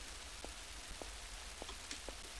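Rain patters outdoors in the Little Big Adventure 2 (Twinsen's Odyssey) video game, a quiet even hiss broken by a few small isolated drop taps, with no speech.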